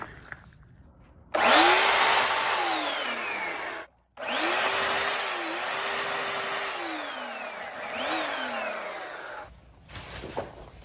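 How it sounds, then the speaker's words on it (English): An electric chainsaw cutting down bushes whines up loudly, cuts out briefly, then runs again with its pitch dipping and rising as it bites into wood, before stopping. "I'm going to cut down these 2 bushes, hopefully with this electric chainsaw"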